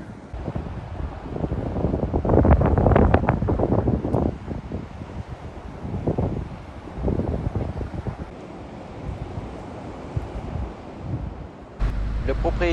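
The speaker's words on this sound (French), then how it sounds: "il y a du vent dehors" Outdoor wind buffets the microphone in broad rumbling gusts, strongest early on and easing later, with a sharp jump in low rumble near the end; occasional voices mix in with the gusts.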